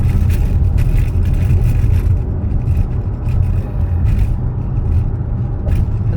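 A SsangYong Torres cruises a highway downhill with smart cruise control engaged, giving a constant low road and engine rumble heard from inside the cabin with no talking.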